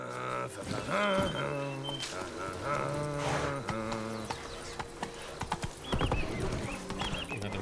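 Horse hooves clip-clop in The Witcher 3 game, steady hoofbeats running through a busy mix with music-like tones and other game sounds.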